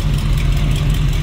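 A 1971 Chevrolet Nova two-door post engine idles steadily just after starting, a loud, even low rumble with no revving.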